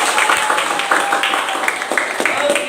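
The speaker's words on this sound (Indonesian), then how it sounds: "berikan aplaus dulu untuk kita" A classroom group applauds together, a dense patter of many hands clapping at close range. It holds steady throughout, with voices faintly underneath.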